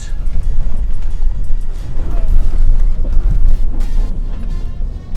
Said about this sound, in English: No power shifting, it's just spinning wheels.